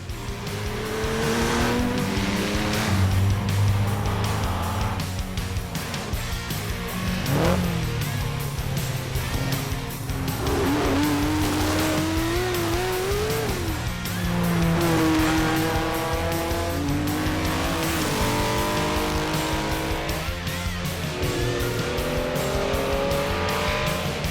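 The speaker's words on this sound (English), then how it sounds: "one has to drive as fast as possible in the specials that take place on closed roads." Race cars from the 2017 Tour Auto driving flat out on closed roads, engines roaring and revving continuously close by, with tire squeal and shifting pitch as cars accelerate and pass.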